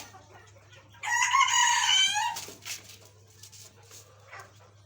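At a poultry farm, a rooster gives one loud, clear crow, while other chickens cluck faintly around it over a low, steady background hum.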